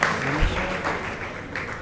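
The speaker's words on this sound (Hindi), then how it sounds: "ताली बजा दीजिए थोड़ा सा" Audience clapping at an awards ceremony with open-mic poetry, a steady dense patter of hands filling the moment, with faint voices mixed in.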